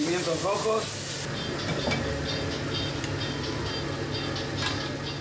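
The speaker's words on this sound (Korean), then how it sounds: "지글거리는 소리만 들어도 그 맛을 알 수 있을 것 같다." Wild octopus stir-fried with Patagonian-style sauce sizzles in a restaurant kitchen in Chile, a steady hiss with faint clatter and a low background hum throughout.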